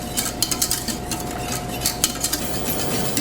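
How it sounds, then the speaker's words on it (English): A whisk beats a vanilla mixture in a pot as it comes to the boil, giving quick, rhythmic metallic scraping and clicking against the pan, close and steady with no talking. "now I'm going to whisk until it boils"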